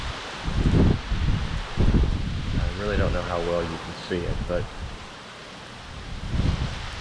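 Hurricane Laura's wind gusting through trees with heavy rain in Louisiana, a broad roaring rush that swells and fades in waves while someone speaks over it.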